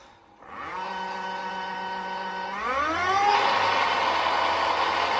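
A Sondors Rockstar electric motorbike accelerates on throttle, its motor whine rising steadily in pitch and growing louder as it gains speed, close and continuous with no talk.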